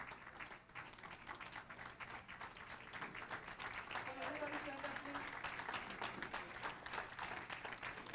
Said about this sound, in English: Congratulations to all the awardees in this room. Can you give them a round of applause?